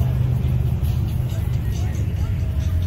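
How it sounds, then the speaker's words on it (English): Honda Civic driving past at an evening car cruise, a steady mid-low engine hum with surrounding crowd chatter and voices. "Oh, Honda Civic."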